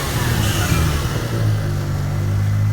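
A Mazda RX-7 with a swapped-in Toyota 1JZ engine idles steadily and smoothly at close range, a continuous low rumble with no revving and no talk.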